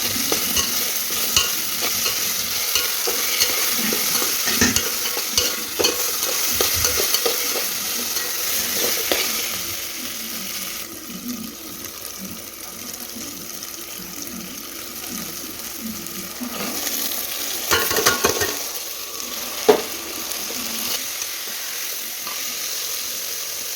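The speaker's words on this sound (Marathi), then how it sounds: "छान असा मंद आचेवर मसाला परतून घेतलेला आहे" Masala sautéing over a low flame with a soft, continuous sizzle and frequent scraping stirs of a spoon against the pan, close by, easing quieter midway before a few sharper clanks near the end.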